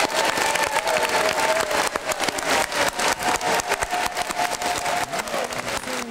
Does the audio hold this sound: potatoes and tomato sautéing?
no